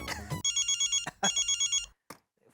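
A telephone rings in two bursts of rapid electronic trills, close and clear, followed by a short clatter and quiet.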